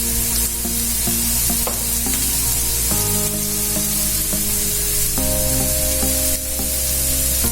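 Chopped onion for tomato bhurji fries and browns in a pan, a loud continuous sizzle with stirring scrapes throughout, no one talking.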